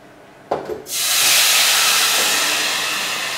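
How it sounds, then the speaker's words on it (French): Water poured into a hot, empty pan inside a home oven while baking bread, giving a sudden loud hiss of steam after a brief clatter, a broad rushing burst that holds steady and slowly fades, with no talking. "Je vais donc mettre de l'eau, ça va créer tout de suite un volume de vapeur."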